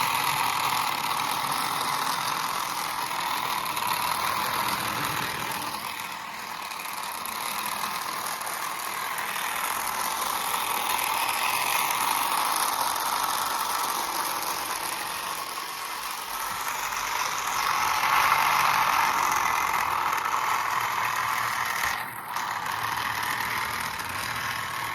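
A 1970s BL2 engine idles steadily at a constant, moderate loudness, then briefly dips and stumbles as if cutting out before it settles back into its idle.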